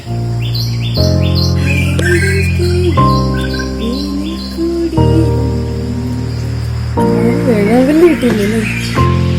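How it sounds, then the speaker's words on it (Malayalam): A series of loud, hoarse honking hornbill calls in separate bursts, with thinner chirps from other birds in the background, in forest at Thekkady, Kerala. "വേഴാമ്പലാണ്."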